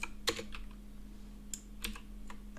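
Code is typed on a computer keyboard in short irregular bursts of close, crisp key clicks over a faint steady electrical hum, with no talking.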